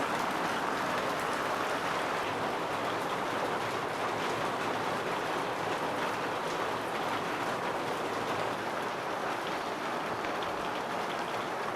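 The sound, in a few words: heavy rain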